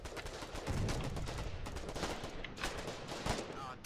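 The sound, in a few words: anti-tank rifle gunfire in the video game Foxhole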